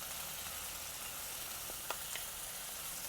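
Chili paste and spices sizzle in hot oil with softened tomato in a pan, a steady, close hiss with a few faint spoon taps, and no voices.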